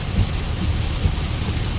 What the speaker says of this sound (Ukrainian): У нас такі щітки, що вони регулюють режим дощу.